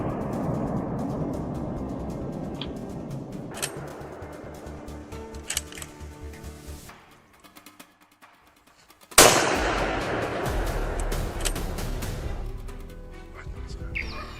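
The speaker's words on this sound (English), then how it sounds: "The shot was quick, powerful, and precise." A rifle shot fired while hunting wild boar in snowy woodland rings out as a sudden loud crack after a near-silent pause, its echo fading slowly over a busy background of sound and talk.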